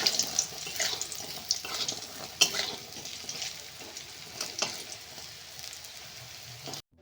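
Puti fish fritters frying in oil in a pan over low heat, a bright crackling sizzle with a few stirring knocks, moderately quiet and close, cutting off at the end.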